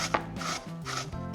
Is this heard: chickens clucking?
no